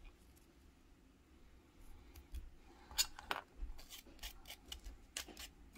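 A hobby knife or sprue cutters snip and scrape plastic parts from an AMT 1963 Stingray model kit. Faint, close clicks and rustles come in short irregular bursts over a quiet background.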